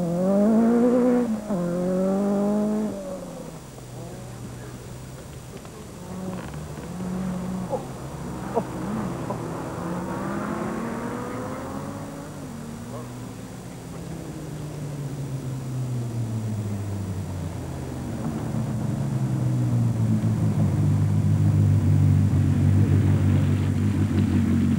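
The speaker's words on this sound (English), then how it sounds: "It's Ford's multi-million pound re-entry into the world of top-class rallying, the RS200." A Ford RS200 rally car at the 1985 RAC Rally, its engine revving and shifting through rising and falling tones as it drives past, growing louder and rougher toward the end.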